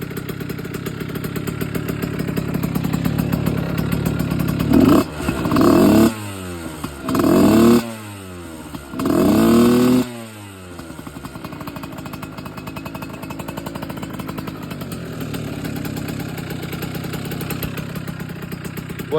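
A small 70cc motorcycle engine idles with a steady rapid putter, then is blipped in several strong revs that rise and fall before it settles back to a loud, even idle while warming up.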